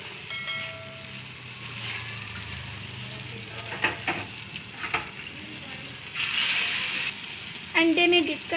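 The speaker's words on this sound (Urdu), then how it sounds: "تو اب جو ہے میں کبابوں کو فرائی کر رہی ہوں۔" Egg-dipped kebabs made from ridge gourd peels frying in hot oil, a steady close sizzle throughout that swells louder near the end, with some clatter and a faint voice.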